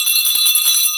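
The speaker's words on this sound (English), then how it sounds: "I'm ringing the bell to that because that is mind relieving." A small bell rings with a bright, sustained metallic tone, struck a few times in quick succession so its shimmering ring keeps going, loud and close with no speech.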